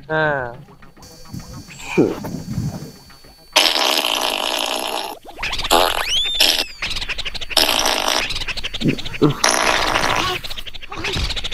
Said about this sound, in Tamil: சும்மா குசு விடுறேன்.